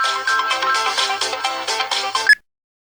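A mobile phone ringtone plays alone for an incoming call, a bright repeating melodic pattern of short tones that runs loudly for over two seconds, ends with a brief sharp tone and then cuts to silence.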